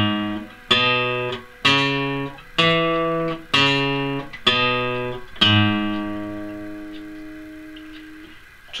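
Electric guitar plays a slow 12-bar blues phrase: six evenly spaced picked notes or chords, each ringing and decaying, the last one sustaining and fading out, clear and close with no talking.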